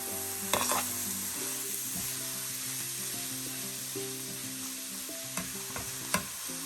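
Bacon cauliflower rice sizzles steadily in a pan while it is stirred, giving a constant frying hiss with a few scraping clinks from the utensil. The sound is close and fairly quiet, with no talking.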